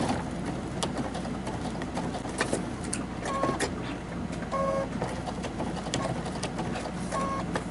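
Sewing machine stitching through a fur pillow, a steady rapid mechanical clatter running close and continuous with small clicks and shifts in pace.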